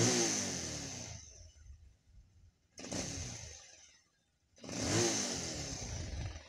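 A 220cc motorcycle engine idles and then the throttle is blipped, giving three sharp revving surges separated by settling back toward idle, close and loud.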